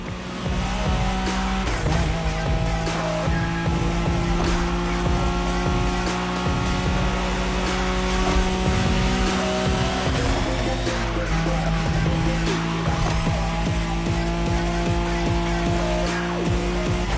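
A Nissan Skyline race car drives in The Crew Motorfest, its engine droning loud and steady throughout with shifting gear pitches, tire squeal and skidding layered over the continuous roar.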